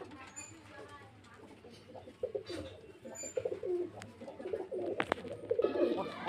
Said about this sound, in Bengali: এটা বড় পায়রা বড় রানিং মাদা পায়রা সিঙ্গেল আছে